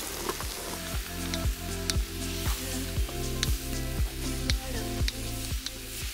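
Carrots hit sizzling oil in a kazan over a campfire, giving a loud, continuous hiss with a wet, rain-like crackle under a low steady hum.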